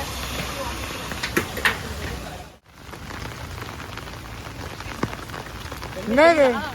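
Steady rain patters on surfaces during a night outing in Chennai, a continuous wash under brief voices, a few sharp knocks and a short bird-like chirping near the end.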